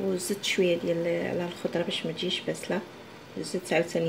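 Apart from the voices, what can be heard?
None of the usual background noises is heard.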